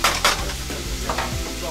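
Food sautés on high heat in a pan, a brief close sizzle with a couple of stirring scrapes near the start.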